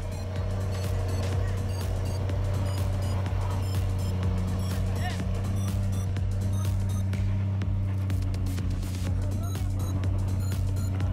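Heavy logging trucks climb a steep slope together, their diesel engines roaring in a loud, steady low drone that holds for the whole stretch.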